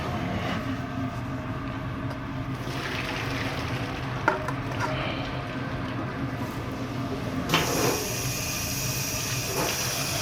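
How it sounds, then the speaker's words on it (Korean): Cooked thin noodles for bibim-guksu rinsed under cold running water, a steady rushing hiss that carries throughout and grows brighter and louder in the final seconds. "이 면을 찬물에 깨끗하게 이 전분기를 빨아주는 게 이게 엄청 면을 살려내는 중요한 포인트 중에 하나입니다."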